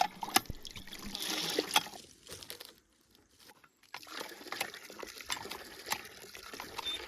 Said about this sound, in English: Go down and make sure that the old well works and fill every container I've got.